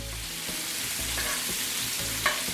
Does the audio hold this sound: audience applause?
no